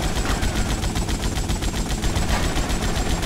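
A sustained burst of automatic weapons fire from a Grand Theft Auto: Vice City shootout, loud and close, shots hammering in a fast even rhythm for several seconds.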